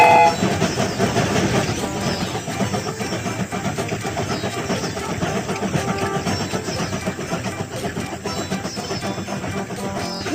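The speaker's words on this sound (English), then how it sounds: "The train is about to start." A cartoon train gets underway with a steady rolling rattle and rhythmic clatter of wheels on track, continuous and fairly loud across the whole stretch, with no voices.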